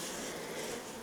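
Honeybees buzz steadily at an open hive frame, a dense close hum that fills the short moment without pause.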